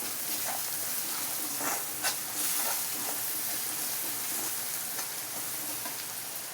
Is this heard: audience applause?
no